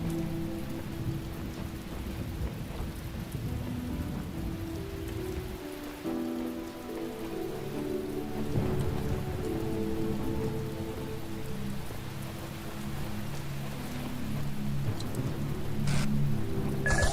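Steady rain pours on surfaces outdoors in the puzzle video game The Talos Principle, with a low rumble of thunder rolling in partway through, continuous and fairly quiet with no one talking.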